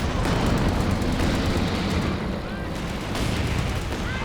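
Calliope rocket artillery fires in a Company of Heroes 2 two-versus-two match, a dense, continuous barrage of rumbling launches and blasts that stays loud throughout.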